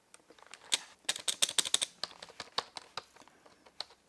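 Typing on the wired keyboard of a Lenovo IdeaCentre AIO 24IRH9 all-in-one PC, a quiet, close run of soft key clicks in an uneven rhythm, bunched into quick bursts and then thinning out, with no voices.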